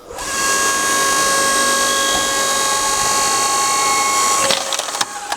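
A Vari 5-ton electric log splitter hums steadily with a constant motor whine as it works through oak, ending in a few sharp cracks and knocks as the wood gives way.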